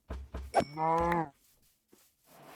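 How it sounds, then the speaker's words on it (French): Cows moo in the video game Minecraft, one clear, drawn-out bovine low lasting about half a second, set between short thumps and quiet game noise. "Oh, il y a plein de vaches."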